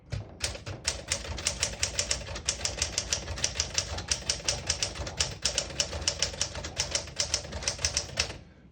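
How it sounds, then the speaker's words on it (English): Rapid, steady clacking of a 1964 Smith-Corona Classic manual portable typewriter's keys striking close up, a brisk rhythm of sharp taps that continues without pause. "I'll type a sentence in red on the next line and switch from black to red"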